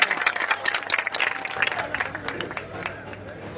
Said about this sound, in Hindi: जोरदार तालियों से स्वागत करें परम सम्मानीय हनुमान जी बेनीवाल।